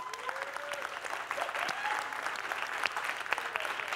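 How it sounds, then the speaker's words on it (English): Audience applause at a leadership talk on a college campus, steady dense clapping throughout with a few whoops and cheers rising over it. "let's give them a round of applause"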